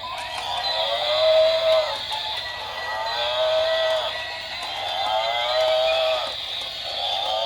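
A cow moos repeatedly, long drawn-out lowing calls one after another, loud and close, with no talking.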